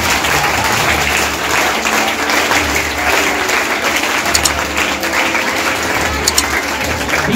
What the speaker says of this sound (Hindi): मैं स्टार्ट बोलूंगा तब आप तालियां बजाएंगे